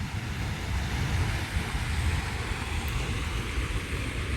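A waterfall near the start of a trail in Tiradentes, Brazil, gives a steady, even roar of rushing water at moderate loudness, with no voices.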